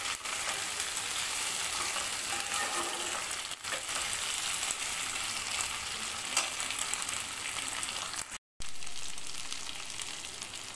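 Fried chicken with spices stirred in a hot pan, giving a steady, dense sizzle with faint scraping throughout, close by and with no talk.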